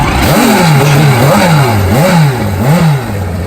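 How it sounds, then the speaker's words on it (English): A Kawasaki KZ turbo drag bike engine revs repeatedly, its loud, close exhaust rising and falling in four quick throttle blips over a rough, clattering idle. "Now we're going to watch this bike run."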